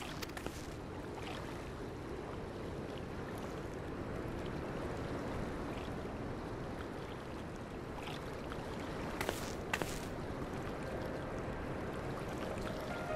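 By the sea in the Final Fantasy XIV video game, water laps and washes steadily in a soft continuous murmur, with a few faint splashes and clinks rising briefly near the end.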